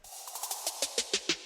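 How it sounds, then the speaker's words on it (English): Snare drum sample played in Logic Pro, a quick rising series of about eight snappy hits that grow louder toward the end over a steady bright wash, dry and close. "You also have the snare."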